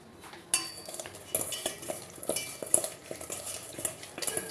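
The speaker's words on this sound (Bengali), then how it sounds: "এখন লবণ, হলুদ আর মরিচের গুঁড়ো দিয়ে ভালো করে মেরিনেট করে রাখবো।" Washed fish being mixed with salt, turmeric and red chili powder, with irregular clinks and scrapes of a utensil against a bowl and soft wet stirring, quiet and close.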